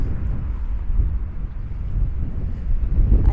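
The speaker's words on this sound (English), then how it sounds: "I do have my wind muff" Steady low rumbling buffet of wind striking a microphone fitted with a wind muff on a breezy hilltop, continuous and fairly loud throughout with gusty swells and no talk.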